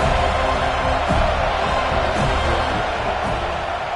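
A football stadium crowd at a college game between FSU and BC, heard as a loud, dense, continuous roar of many voices that holds steady throughout.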